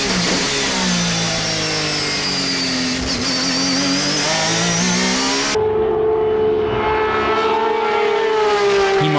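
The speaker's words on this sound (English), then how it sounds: "The car was turning into the corner with much sharpness and accelerating out with great traction." A race car works through a corner on track, its engine note dipping and then climbing hard as it accelerates out, loud and close with a steady mid-pitched roar and rising harmonics, then a smoother sustained drone.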